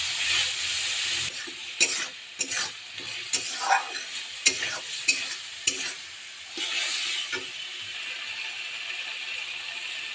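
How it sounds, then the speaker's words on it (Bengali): Ginger and green chili paste hits lightly fried potatoes in a hot pan and sizzles softly, broken by repeated scrapes and clinks of a spoon stirring, close and fairly quiet with no talking. "হালকা ভাজা হয়ে এসছে, এখন আমি পেস্ট করে রেখেছিলাম একটু আদা, কাঁচা লঙ্কা দিয়ে দিলাম।"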